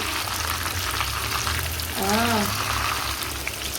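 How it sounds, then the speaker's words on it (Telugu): Fish fries in a pan with a steady, close, dense sizzle and crackle throughout, and a brief voice-like tone rises midway above the hiss. "ఫిష్ ఫ్రై చేస్తున్నాను"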